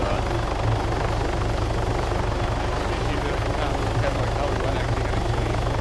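A video game helicopter drones steadily with a heavy, rapid rotor thump that stays loud and continuous throughout, with no letup.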